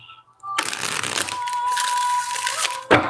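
Crisp, continuous riffling and crinkling of tarot cards being shuffled for a few seconds, fairly close, ending in a sharp snap.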